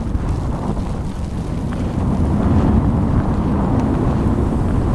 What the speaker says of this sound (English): wind is ripping out here this morning